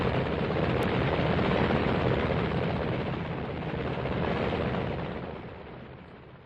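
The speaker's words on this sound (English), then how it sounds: "2 helicopters are taking off to bring back samples of seawater from the lagoon" Two helicopters lift off near a radioactive lagoon during the 1953 British atomic test, a dense, roaring rotor and engine wash that holds steady, then gradually eases and fades as they climb away, loud and alone.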